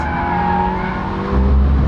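Tires of a Toyota GR86 on low-grip rubber squeal steadily as the car slides sideways on a race track, with engine roar close and loud beneath a sustained skid.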